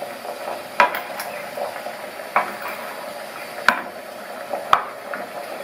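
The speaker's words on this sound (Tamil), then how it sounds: "அதில் இட்லி தட்டை வச்சுட்டு நம்ம ரெடி பண்ணி வச்ச டம்ளரை ஒவ்வொன்றிலையும் எடுத்து வச்சிடலாம்" Steel tumblers of rava batter set down one by one onto an idli plate over boiling water, four sharp metallic clinks spaced a second or so apart above a soft steady hiss.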